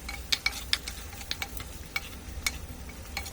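Curry leaves and onions frying in oil for a Kerala sole fish curry, a soft, faint sizzle broken by light metallic taps and scrapes of a stirring spoon, with no talk.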